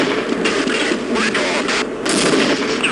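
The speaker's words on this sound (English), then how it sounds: "They're spamming grenades." Repeated grenade blasts and gunfire-like bursts in the Half-Life video game, loud and continuous with dense overlapping detonations throughout and no clear pauses.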